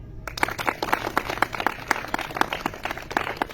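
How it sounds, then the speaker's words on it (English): Children clapping their hands during a physical education exercise, a run of quick, sharp claps in a loose, uneven rhythm, close and fairly crisp, with no talk over them. "Clap."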